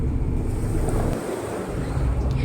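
Ocean waves wash onto a beach in a steady, close roar, a broad rushing surf blended with wind buffeting the microphone.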